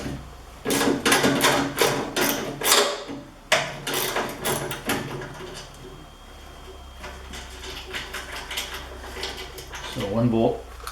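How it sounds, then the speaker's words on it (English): A half-inch socket works bolts off a Kubota snow blower shoe in a quick run of sharp metallic clicks and rattles, close and loud, followed by quieter handling of parts and a final clatter. "So we'll just quickly pop those off with a socket, half-inch socket."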